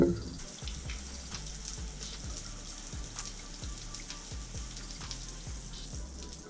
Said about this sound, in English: That's a great stream right there. Coming out the exhaust like it should.